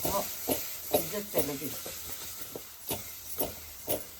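Masala with broad bean pods and mandeli fish stirred in a hot pan, giving repeated soft scraping swishes and a steady hiss of frying, with speech heard over the cooking.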